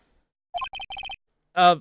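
Electronic telephone tones in the video game Ace Attorney after redial is pressed: a rapid string of short dial beeps, a pause, then a single loud buzzing ring burst.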